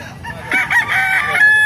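A kanawayan rooster crows once, loud and close, with a strained drawn-out call over faint background noise.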